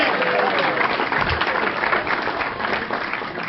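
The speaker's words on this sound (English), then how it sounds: "Big round of applause for David Brabham, one of our old mates." A studio audience at a motorsport panel show applauds in a thick, continuous round of clapping, fairly loud and even across the whole stretch, with faint crowd murmur and a low thump near the start.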